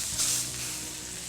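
Steaks going into a hot oiled pan to sear, a brief burst of hissing sizzle that settles into a quieter steady frying crackle.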